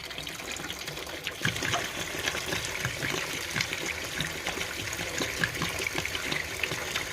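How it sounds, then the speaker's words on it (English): Water draining out of a household hot-water geyser in South Africa so its seal can be replaced, a continuous splashing gush and trickle with small irregular spatters, fairly close and steady throughout with no voices. "just draining all the water, and then I can replace that seal"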